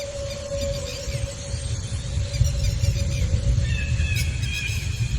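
A parrot calls with squealing notes and a thin held whistle over a busy rumbling background, joined near the end by brighter rising chirps.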